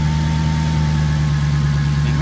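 A Dodge Hellcat with a new supercharger idles up close, a loud, steady low rumble with a constant droning hum and faint whine, unbroken from start to finish.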